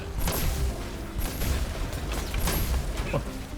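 Fireworks going off in the video game The First Descendant, three separate bursts about a second apart, each a sharp bang with a thin high whistle, heard over steady game background noise.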